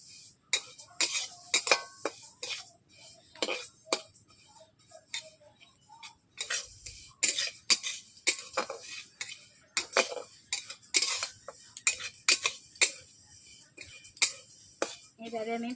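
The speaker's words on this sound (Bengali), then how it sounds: "আমি এইভাবে তিলগুলোকে নেড়ে নিচ্ছি ঘন ঘন করে" White sesame seeds are stirred often in a pan, giving quick, irregular taps and light scrapes of a utensil against the pan, close and crisp over a quiet background.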